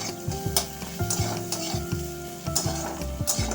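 Small mixed fish frying with bitter gourd for a spicy jhal, a steady loud sizzle broken by repeated stirring scrapes of a spatula in the pan, with no talking.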